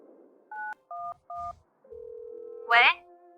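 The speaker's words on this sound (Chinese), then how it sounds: "打个电话问问情况吧" A telephone keypad is dialed with three short, crisp beeps, followed by a long steady line tone and then a brief voice.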